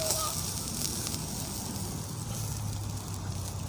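A steady roaring hiss of fire flaring while grilling beef, with crackles and a soft sizzle, continuous and close, with no talking.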